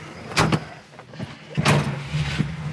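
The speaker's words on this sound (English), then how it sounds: "Let's just roll up our back window, shall we?" Rear power window on a 1968 Plymouth Satellite, a low motor hum running in two bursts with a clunk at each stop, set off by sharp broadband swishes and thumps, fairly close and with no talking.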